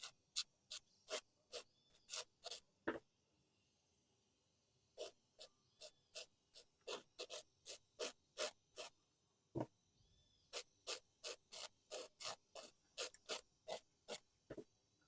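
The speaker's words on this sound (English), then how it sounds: "So I just slightly file those off." Press-on nail tips being filed by hand, a series of short, sharp rasping strokes in quick rhythmic bursts with brief pauses between groups, close and clear with no talking.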